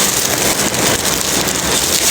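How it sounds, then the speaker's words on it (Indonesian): Heavy rain pours down in a dense, steady hiss, loud and close, drumming evenly on surfaces with no pauses or voices. "Hujan deras banget."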